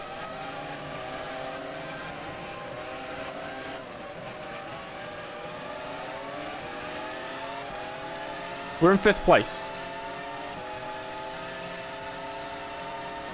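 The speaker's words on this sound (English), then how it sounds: "Gosh, these cars are loud." Formula One car engines in the F1 Challenge 99-02 video game whine continuously at high pitch at the British Grand Prix, pitches sliding as they change gear, with a short burst of bumps and a brief spoken line.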